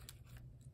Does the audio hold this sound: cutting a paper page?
yes